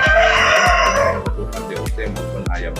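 A KUB chicken rooster crows loudly and close on a farm, a long drawn-out cock-a-doodle-doo with other fowl clucking and calling around it.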